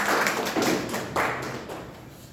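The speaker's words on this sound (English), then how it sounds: "Let's give a great applause for DTM Thomas." Audience applause at a Toastmasters club meeting: steady, close clapping that swells in several waves and slowly fades, with no talking over it.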